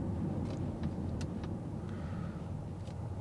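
Volvo V60 2.4 D5 five-cylinder diesel from 2014 running with a low, rough, steady rumble heard from inside, fairly quiet and continuous with no talking.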